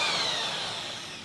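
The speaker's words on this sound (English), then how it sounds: "Let's drill some freaking plastic" A power drill fitted with a mixer whirs steadily while stirring liquid plastic for fishing bait, a close high whine that eases slightly as it runs.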